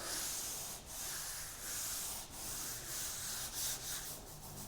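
Hand sanding on the bodywork of a Galant hardtop with 120 grit sandpaper, a steady continuous scratchy rubbing hiss with slight back-and-forth swells, close by, with no talking.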